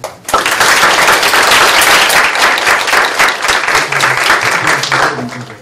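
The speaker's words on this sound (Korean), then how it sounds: "박수 부탁드립니다" Audience applause at a 2015 KODAC international development cooperation talk concert, a loud, sustained burst of many hands clapping together that swells quickly and holds for several seconds before easing off.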